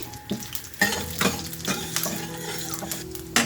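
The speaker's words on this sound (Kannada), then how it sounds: "ನೋಡಿ ಎಣ್ಣೆ ಕಾದ್ಮೇಲೆ ಸ್ವಲ್ಪ ಜೀರಿಗೆನ ಸೇರಿಸ್ಕೊಳ್ತಾ ಇದ್ದೀನಿ" Cumin seeds go into hot oil in a pan for a South Indian seasoning, giving a steady crackling sizzle with sharp spoon-and-pan clinks from stirring throughout, close and unaccompanied by talk.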